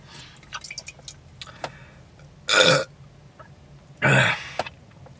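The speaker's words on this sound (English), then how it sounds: "I had to burp too bad" A person lets out two loud, drawn-out burps a second and a half apart, close to the mic, with quieter smacking and clicking mouth sounds between them.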